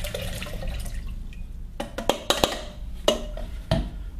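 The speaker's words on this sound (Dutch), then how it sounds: "Ik gooi het water in een maatbeker." Water is poured into a measuring jug, with a few short splashes and drips standing out over a low, steady background rumble, close by and without talk.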